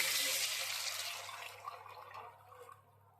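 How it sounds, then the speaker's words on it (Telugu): Toor dal rasam is poured into a pan of hot tempering, giving a loud rushing liquid sound that fades into softer bubbling and trickling over about three seconds. "కందిపప్పు చారు పోస్తున్నానండి"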